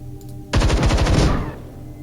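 Automatic gunfire in the video game Templar Battleforce, a single loud sustained burst of rapid shots lasting about a second, ringing out alone over low game background hum.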